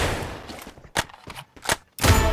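Gunfire in the mobile battle-royale game Free Fire: several separate sharp shots and short bursts at irregular intervals, fairly loud, with a dense burst near the end and no talk.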